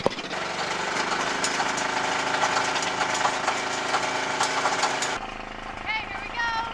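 Pony motor on a bulldozer starting and running, a steady loud rough engine clatter that continues, then drops to a lower idle near the end, with someone talking over it.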